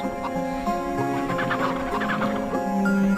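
Several chickens in the video game MediEvil on PlayStation cluck steadily over a constant backdrop of music and tonal ambience, moderately loud and close.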